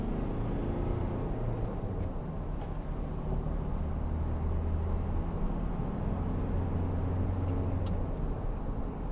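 A 2012 Volkswagen Amarok 2.0 BiTDI pickup accelerating, a steady low diesel drone with road and cabin noise from inside, continuous and moderately loud.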